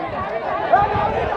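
Crowd chatter and general hubbub at a village race event in Panvel, a steady, dense murmur of many voices with no single speaker standing out across the short stretch.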